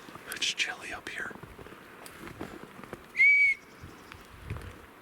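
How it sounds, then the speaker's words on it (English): A single sharp whistle rings out from the snowless woods by the new structures on a chilly hillside, clear and moderately close, following soft whispered talk. "Whistles came right from the new structures, which are right over there"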